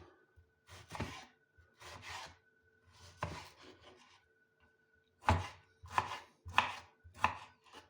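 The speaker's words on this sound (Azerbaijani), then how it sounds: "Pomidorumuzu doğrayaq." A large tomato being cut with a knife on a board makes a series of close, crisp chops, sparse at first, then a quicker run of firmer strokes.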